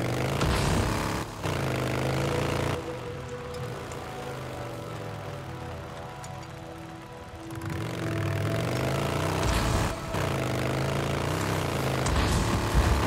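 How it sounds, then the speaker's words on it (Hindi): Motorcycle engine in Days Gone, a steady droning rumble with shifting tones, loud and continuous, dipping briefly mid-way before surging again. "ये मैंने बोला ना कि बाइक की आवाज आ रही थी मुझे"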